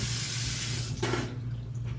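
A bathroom tap runs into a sink while a child rinses their mouth after brushing teeth. The water makes a loud, close, steady rush that shifts briefly about midway, with no voices.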